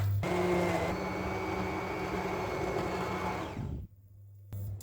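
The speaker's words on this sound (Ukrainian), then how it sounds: "починаємо його подрібнювати блендером" A blender whirs steadily at full power for several seconds pureeing vegetable soup, a dense buzzing roar that suddenly cuts off, leaving only a low hum.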